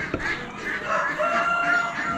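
A rooster crows near a crowded Amish animal auction with chickens and pigeons for sale, a drawn-out call over a busy background of other fowl and barn noise.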